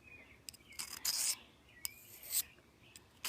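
Scraping strokes of a blade drawn across a sharpening stone come in irregular bursts, a few short sweeps and longer passes, close and fairly quiet, with no talk.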